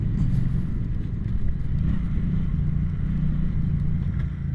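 A Triumph Bonneville fitted with adventure tires rides over hard-pack dirt with loose gravel on top, giving a steady low engine rumble mixed with road and wind noise throughout.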